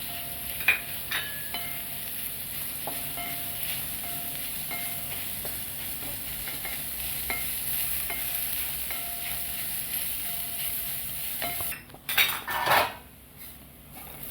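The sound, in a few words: sautéing ground coconut, garlic and ginger in a pan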